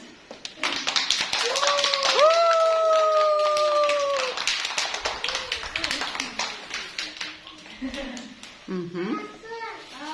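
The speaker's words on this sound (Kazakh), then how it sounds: "Қане, шапалақтаймыз." Hands clap together at a child's birthday celebration, a quick rhythmic patter of claps running through most of the moment. Children's voices and a long drawn-out sung or called tone rise over the clapping.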